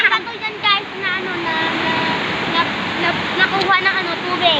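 Loud, continuous rushing of dark floodwater choked with garbage pours past nearby, a dense churning roar under a voice talking over it.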